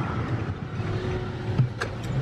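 A car pulling out of a parking spot, a low, steady engine hum at moderate distance with faint clicks and rustles near the end, heard from inside another car.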